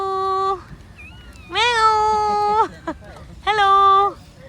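A domestic cat in Buenos Aires, Argentina, giving three drawn-out, clear meows close by, separated by short pauses, with faint background noise.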